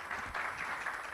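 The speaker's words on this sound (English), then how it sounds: "Once again, a huge round of applause yaar." Audience applause for a panel at an event, steady clapping from the crowd throughout the short burst, fairly close and even in level.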